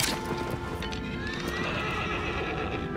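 Agro, the horse in the video game Shadow of the Colossus, neighs loudly at the start and then clip-clops along in a steady galloping rhythm, close and clear, with no talk.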